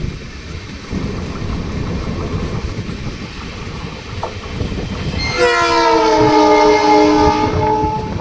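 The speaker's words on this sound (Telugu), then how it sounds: "ట్రైన్ కడప జంక్షన్ రైల్వే స్టేషన్కి అయితే ఎంటర్ అవుతుంది" A passenger train on the Nanded–Tirupati route pulls into Kadapa Junction railway station. Close, steady rolling rumble, then a loud, sustained multi-tone horn blast near the end.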